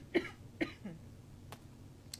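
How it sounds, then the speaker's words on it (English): A woman coughs twice in quick succession, close and fairly clear, followed by a few faint breathy sounds in a quiet room. "excuse me, I'm going to cough"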